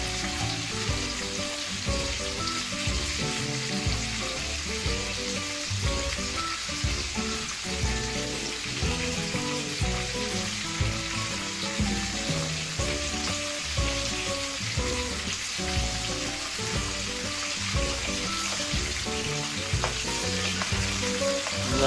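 Mutton seekh kebabs on skewers cook over a medium flame with a constant, dense sizzle and crackle that holds steady throughout, with no one speaking.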